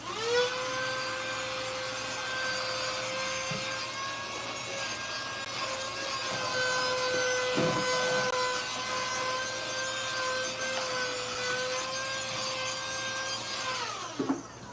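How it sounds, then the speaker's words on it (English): A small, inexpensive handheld vacuum cleaner runs for about fourteen seconds, sucking up dropped paint from a floor. Its steady high-pitched motor whine is close and continuous, with faint scraping as the nozzle moves, and it winds down at the end. "there's going to be noise in a couple of seconds while I just vacuum up some paint that I dropped on the floor"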